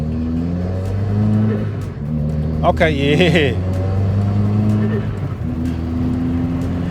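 A 2020 Subaru WRX fitted with a Perrin steering dampener accelerates through a turn, its engine note climbing in a brief revving surge, while people talk briefly inside the car.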